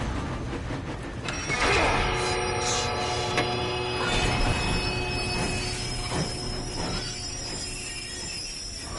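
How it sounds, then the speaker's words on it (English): A moving train in the Red Dead Redemption video game, its wheels squealing and grinding on the rails in a long, loud, steady rumble with metallic screeches rising over it, and no talk. "We have to stop this train."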